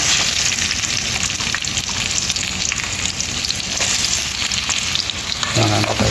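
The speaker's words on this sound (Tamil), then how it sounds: "வெங்காயம் போட்டாச்சு. வெங்காயம் நல்லா வதங்கட்டும்." Onions frying in hot oil in a pan, cooking for macaroni, with a loud steady sizzle throughout and some clattering stirring near the end.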